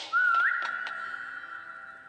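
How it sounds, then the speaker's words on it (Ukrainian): A single clear whistle in a 3008 survival video game rises slightly in pitch and then holds a sustained, steady tone that slowly fades, close and alone. "Свисті у Ярику, поки він дойде."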